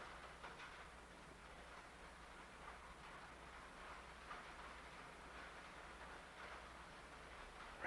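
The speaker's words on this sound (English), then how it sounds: "Right now it's the sound of raindrops on the roof." Rain falls on a roof as a faint, steady patter and hiss over a low background hum, quiet and even throughout.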